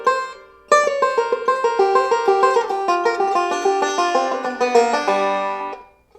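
A banjo picks a bluesy chromatic scale lick built on rolls, bright plucked notes in a quick even run after one opening note and a brief pause, then a ringing fade.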